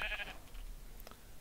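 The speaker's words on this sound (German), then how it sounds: "Da ist ein Schaf." A sheep in the Minecraft video game gives a single short bleat at the very start, then only faint background sound follows.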